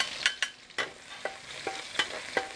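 Garlic sizzles in a hot pan while being stir-fried, with several sharp scraping strokes of a spatula against the pan over a steady frying hiss, close and fairly loud.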